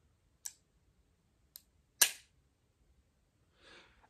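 A Harrington & Richardson Model 950 revolver's stiff, heavy double-action trigger gives three sharp, dry mechanical clicks at uneven intervals, the last the loudest, followed by a faint brief rustle.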